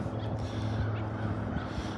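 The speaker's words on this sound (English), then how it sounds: "Try and get down here away from all the bird noise today." Crows caw repeatedly in the background over steady outdoor noise, calls overlapping and continuing throughout.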